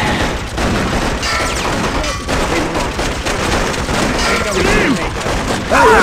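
Gunfire in the video game Freedom Fighters, a dense, loud barrage of shots, crashes and booms running continuously, with shouting voices over the chaos.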